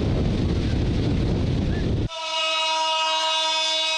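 A train on the Cox's Bazar railway rumbles along, then a loud sustained horn blast cuts in and holds, near and dominant.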